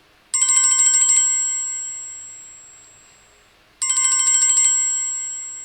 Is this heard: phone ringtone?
yes